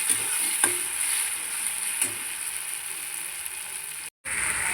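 Ginger garlic paste and masala fry in a pan with a steady, close sizzle, broken by a few faint stirring clicks and a brief dropout near the end.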